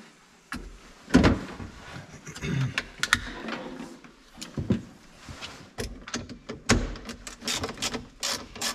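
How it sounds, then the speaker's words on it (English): A 10mm socket wrench loosens the negative battery terminal on a 2013 BMW X5 35d with a series of close metallic ratcheting clicks and clanks. The clicks come in uneven bursts while a person speaks over part of it. "Dad is using a 10mm socket to remove the negative connector on the battery"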